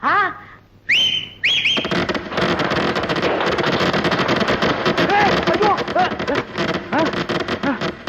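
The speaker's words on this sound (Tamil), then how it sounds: "என்னடா அது விசில் வேட்டு சத்தமா?" Whistling firecrackers shriek with rising tones near the start, then a dense crackle of bursts and fizzing whistles runs on loudly and steadily underneath, with a few more rising whistles popping through the clatter.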